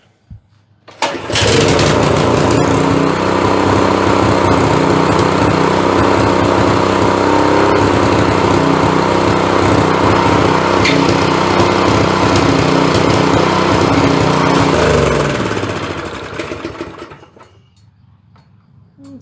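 A snowblower's small engine starts and idles at a loud, even drone for about fifteen seconds, then winds down and cuts off.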